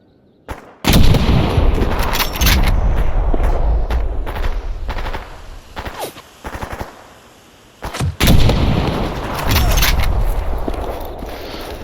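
Loud, sustained bursts of rapid video game gunfire in the Anomaly mod for S.T.A.L.K.E.R. crackle close by, broken by brief pauses, with heavy booming shots and a voice speaking between volleys.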